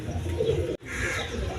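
A pair of blackless Shirazi pigeons, a hen and a cock, coo in low repeated calls at moderate loudness, with a brief sharp dropout midway before the cooing resumes.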